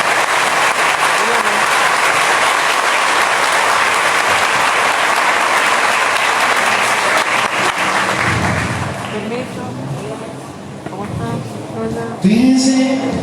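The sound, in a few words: congregation applause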